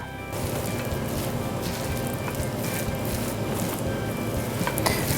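Lentil meatball mixture with flaxseed meal being stirred in a bowl, a steady wet squishing and scraping texture that runs throughout, close and fairly loud, with no one talking.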